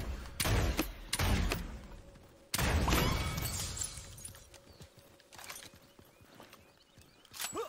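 Horse hooves in the video game Realm Royale: several heavy thuds and clattering impacts in bursts, followed by a fading rumble and scattered lighter clicks, with no talking.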